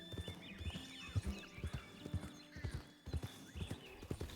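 Slow, uneven clip-clop of horse hooves on a trail in Red Dead Redemption 2, a horse being ridden at an easy pace, with soft snorts and faint ambient game sounds around the steps.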